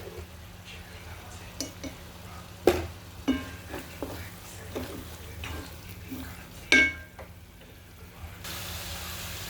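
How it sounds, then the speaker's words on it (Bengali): Spice masala with chilli, coriander and cumin powder is stir-fried in a pan for a fish curry: a low sizzle runs under irregular spatula scrapes and a couple of loud metallic clanks against the pan. "এখন মশলাটা ভালোভাবে নেড়ে চেড়ে কষিয়ে নেব।"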